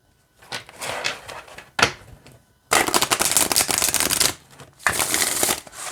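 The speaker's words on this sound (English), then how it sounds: "Let's see how they shuffle." Oracle cards from a Love Who You Are deck being shuffled by hand, close and fairly loud, in several riffling bursts of about one to two seconds separated by brief pauses.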